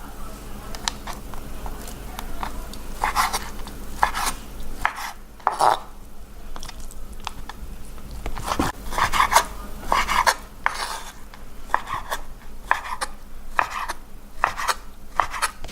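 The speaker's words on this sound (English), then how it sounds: "So I normally just cut my steak cubes about this size." Knife chopping steak into bite-size cubes on a board for Vietnamese shaken beef: uneven bursts of cutting strokes and scraping, close and moderately loud, with short pauses between runs and no talk.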